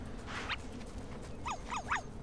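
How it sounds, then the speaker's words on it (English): Badger cubs in the video game Shelter give a few short, high yipping barks, one near the start and three in quick succession toward the end, over a low steady game ambience. "What are you guys barking at?"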